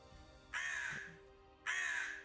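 Two loud, harsh caws from a black crow, each a sustained raspy call about half a second long, separated by a pause, heard alone in a quiet outdoor setting.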